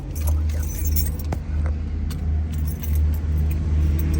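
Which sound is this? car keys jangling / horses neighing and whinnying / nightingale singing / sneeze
car keys jangling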